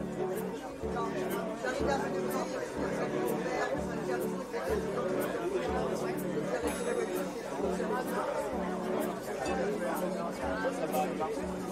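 A busy outdoor market with dense crowd chatter, many overlapping voices forming a steady, loud hubbub with no single voice standing out throughout.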